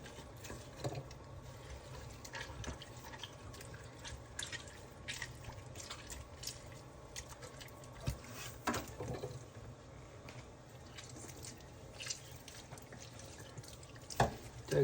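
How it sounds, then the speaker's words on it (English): Tap water runs steadily into a kitchen sink while a turkey is washed under it, a continuous soft splashing stream with scattered drips and small thumps, close and unbroken by talk. "Turkey, gotta wash it good."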